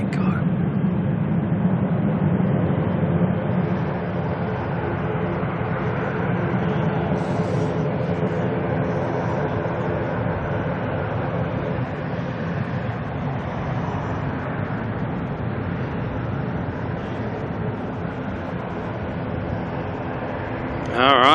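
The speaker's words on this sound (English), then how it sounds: "ZK OCB, the Falcon 2000, heading to Essendon. Climbing out like an absolute rocket." Falcon 2000 business jet taking off and climbing out from Auckland Airport, a steady distant engine roar held for about twenty seconds, with a voice talking over it.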